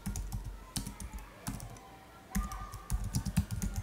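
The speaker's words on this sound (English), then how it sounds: "So let me type roboticqa and press tab." Typing on a computer keyboard while entering text into form fields, with quick clusters of close, crisp key clicks separated by short pauses, including a brief lull midway before the tapping resumes.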